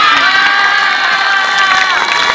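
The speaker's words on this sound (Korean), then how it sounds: "박수 한번 크게 쳐드리세요." Children at a youth soccer tournament cheer and shout in a loud, dense roar, their high voices blending with clapping in an unbroken wall of crowd noise.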